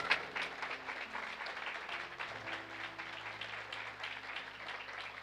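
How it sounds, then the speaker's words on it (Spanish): Applause from a church congregation during a Spanish-language sermon, a steady mid-level patter of many hands filling the room, with a faint sustained hum underneath and no talking. "¿Cuántos aplauden la grandeza del Señor?"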